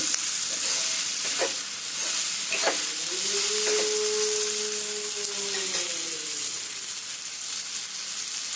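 Ridge gourd bhaji roasts in a pan with a steady, close frying hiss. A faint tonal whine rises and falls midway while occasional light stirring taps sound underneath.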